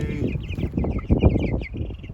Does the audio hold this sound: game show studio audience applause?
no